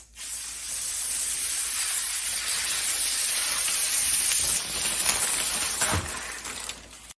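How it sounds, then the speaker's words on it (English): Protective film being peeled off a black mirror gives a steady, loud, close hiss of tearing plastic that lasts several seconds and ends in a few crackles, with no voices. "Now, my favorite part, the peel ASMR."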